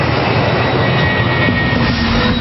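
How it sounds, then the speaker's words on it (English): Jet engines of a Boeing 737-400 airliner drone steadily and loudly, a continuous broadband roar with a faint high whine and no pauses. "The aircraft is one of Boeing's new 400 series 737s."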